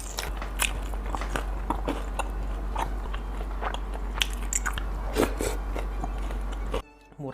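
Repeated crunchy bites and wet chewing of cireng, fried tapioca snacks, in a milky cheese soup during a mukbang, close and steady with crackly crunches throughout and a brief drop-out near the end.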